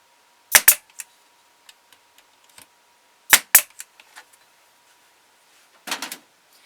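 An air-powered staple gun drives staples into a handmade wooden ventriloquist dummy. There are two pairs of sharp, close snaps about three seconds apart, each followed by lighter taps, then a final duller burst.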